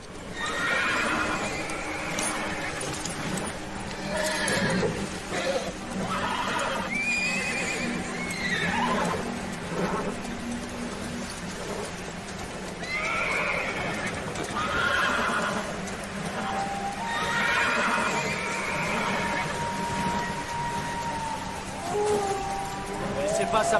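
Horses in a French-dubbed western film, repeated high whinnies and neighs with some hoof clatter, fairly close and recurring throughout, mixed with other scene noise.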